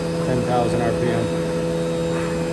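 A 2021 Haas VF4SS CNC machine hums with steady tonal whine during a tapping operation, a continuous mechanical drone with faint speech-like murmur mixed in.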